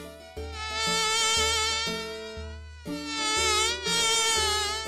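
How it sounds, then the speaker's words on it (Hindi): Flies and mosquitoes buzz around a roadside eatery in a continuous, droning whine that swells and shifts pitch in overlapping waves, loud and close with no other sounds. "वो मक्खी और मच्छर बहुत परेशान करने लगे"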